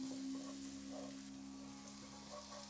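Chopped chili, ginger and garlic frying in hot oil in a stir-fry pan, a steady close sizzle with soft crackling, continuous throughout with no voices.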